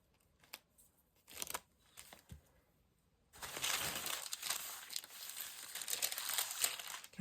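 Tissue paper taken from a shoe box being crinkled close by: a few sharp rustles at first, then several seconds of continuous loud crackling and crumpling, with no talking.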